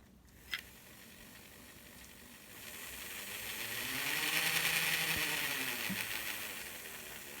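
Small electric motor of a model Plymouth industrial switcher driving its worm gear, a faint whirring hum that rises in pitch and volume as it speeds up, then settles, after a single small click.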